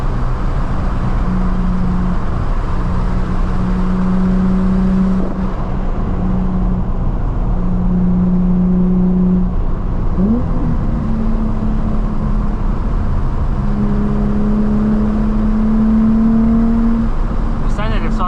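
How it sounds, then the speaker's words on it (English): A Nissan 350Z's engine hums steadily at close range, its pitch climbing and settling through several rising pulls as it revs and accelerates, with someone talking over the engine noise throughout. "this engine is really responsive and really torquey, pulls pretty strong"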